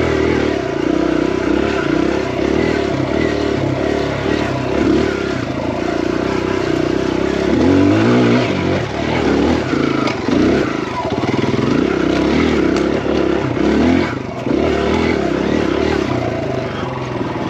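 A Kawasaki KLX140RF dirt bike engine drones loud and close for the whole stretch, its pitch swinging as the rider works the throttle up a hill climb, with a brief dip and surge midway through.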